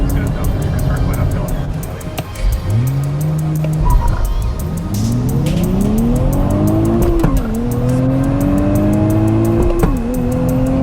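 A car accelerates hard from a launch up a hill, the engine note climbing steeply through the gears with distinct drops at each manual shift, loud and close with some tire noise throughout.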